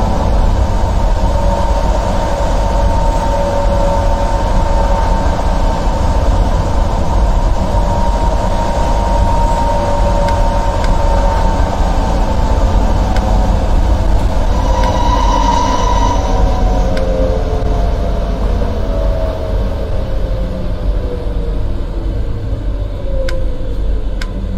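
A Berlin U7 subway train in the game World of Subways 2 runs with a loud steady rumble and droning motor whine that shifts pitch, with faint wheel squeals near the end.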